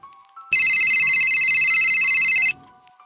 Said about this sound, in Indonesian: Telepon kembali berbunyi.